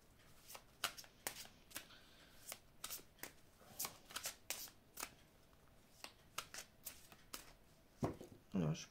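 Tarot or oracle cards being shuffled by hand, a long series of quick, crisp riffling and flicking bursts, close and fairly quiet, ending with a louder rustle.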